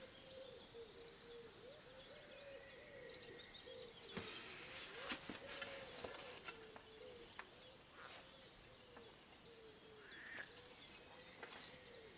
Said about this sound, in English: see if it's not too noisy with the